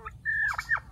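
A single duck gives a drawn-out, honking call followed by a couple of shorter squawks, close and clear against a faint background on a farm.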